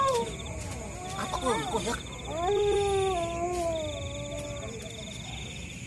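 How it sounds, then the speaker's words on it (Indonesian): Cats caterwaul at night, their drawn-out, wavering yowls rising and falling at close range. A person speaks briefly over the cries. "Kucing lagi mojok."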